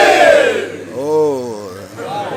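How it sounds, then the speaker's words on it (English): A crowd at a Labour Party reception in Abuja roars and shouts in response to a speaker, with a loud surge of cheering and voices rising and falling over a couple of seconds. "I will know how much I am welcomed by the thunderous applause I will get."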